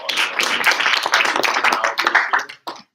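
A student senate at its final fall meeting gives a round of applause, dense and loud clapping from a roomful of people that lasts about three seconds and then tapers off.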